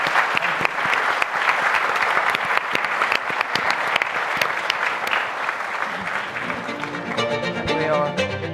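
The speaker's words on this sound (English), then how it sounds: "please give a big round of applause to our speakers" Large audience at a business forum breaks into sustained applause, dense continuous clapping that stays loud throughout, with faint voices mixed in and a musical fanfare rising near the end.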